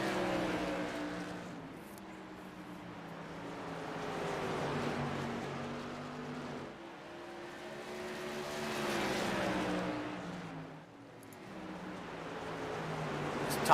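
TSS Tour modified race cars lapping North Wilkesboro speedway, engines swelling and fading as packs roar past in repeated waves, fairly distant and echoing across the track.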